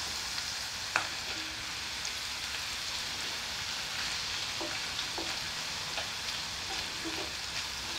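Mushrooms frying in a hot pan with oil for a pork stroganoff, giving a steady close sizzle with a few soft clinks and stirring knocks and no talk.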